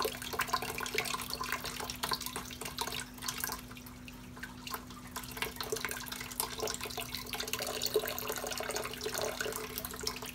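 Saltwater is poured out of a plastic fish shipping bag, a steady splashing trickle running close and continuous with a constant low hum underneath.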